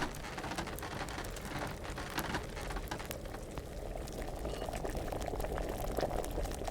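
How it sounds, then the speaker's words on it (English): A pot boiling vigorously in the medieval game Kingdom Come: Deliverance, a steady dense bubbling and hissing that carries on without a break, close and fairly loud, with no talk over it. "So we're going to get it boiling"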